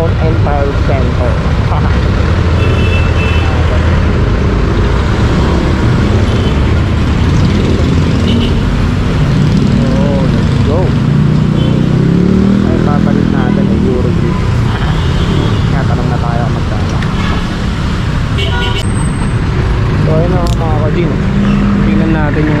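Heavy city street traffic on the way toward Blumentritt Road, with cars, motorcycles and larger vehicles rumbling and passing close in a continuous loud wash, with people talking over it.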